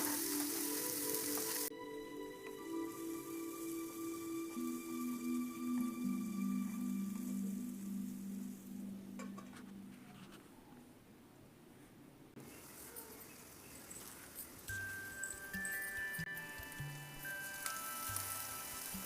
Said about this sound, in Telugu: వీటిని పచ్చివాసన పోయి దగ్గరగా ముద్దగా ఉడికే వరకు మనం మూత పెట్టి వేపుదాం.